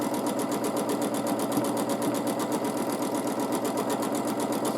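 A sewing machine stitches feather plumes on a quilt, a fast, even mechanical chatter repeating rapidly and steadily without pause, close and clear.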